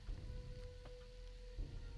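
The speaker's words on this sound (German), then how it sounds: "Es regnet." Rain patters steadily in the survival game 7 Days to Die, a faint, even wash of drops with a few brief louder taps and a low hum beneath.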